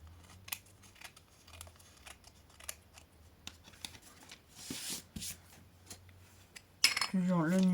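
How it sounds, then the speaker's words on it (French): Scissors snip away small overhanging paper pieces on a handmade butterfly card in blue and green, with repeated sharp close cuts in an irregular rhythm and a brief louder burst of sound at the end. "je redécoupe les petits papiers qui dépassent"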